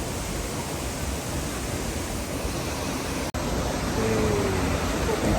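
Rushing water at the Wulai Waterfall area, a steady, dense broadband roar that holds constant throughout, with a brief dropout partway.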